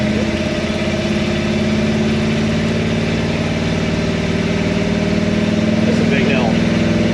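A small go-kart-like vehicle's engine runs steadily while driving at under quarter throttle, a loud, close, continuous buzzing drone with a faint tonal squeak near the end.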